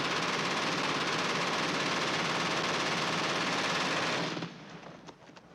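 Sustained dense gunfire with explosions from a WWII battle scene, a loud continuous roar lasting about four seconds before cutting off abruptly to quieter scattered noise.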